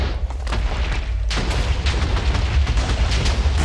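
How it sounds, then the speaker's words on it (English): A bomb goes off in bio-craft, a Minecraft-style game, after a TNT charge is lit: a loud, sustained boom with rumbling crackle that swells and holds close and heavy for several seconds. "Bomb's been activated"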